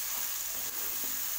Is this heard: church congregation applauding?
no